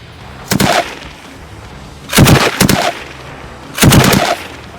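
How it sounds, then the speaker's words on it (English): A heavy Soviet DShK machine gun from 1938 fires three short bursts, each a loud, rapid cluster of booming shots separated by pauses. "The Dishka is a heavy Soviet machine gun created all the way back in 1938."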